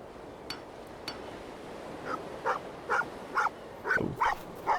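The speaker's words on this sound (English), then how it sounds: "Little yappy bark." A small dog in a horror video game gives a run of quick, high, yappy barks, about eight in a row after a couple of faint clinks, close and fairly loud with no talk over them.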